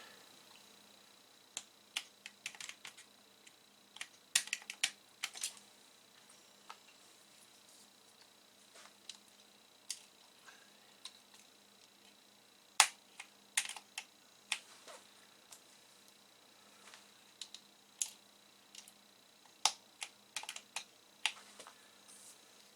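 Plastic keycaps snapped one by one onto an Atari 130XE computer keyboard during refurbishment, giving sharp, close clicks in irregular bursts with quiet gaps between, no talking.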